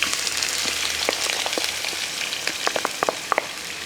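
Finely chopped onion and dried red chillies fry in hot oil for a Kerala-style drumstick flower thoran. The sizzle is steady and close, broken by sharp crackles and pops, and nobody speaks.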